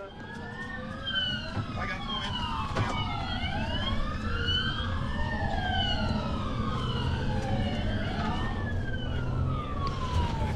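An ambulance siren wails loudly and continuously on a green light run, its sweeping tones rising and falling repeatedly over road noise, with voices talking underneath.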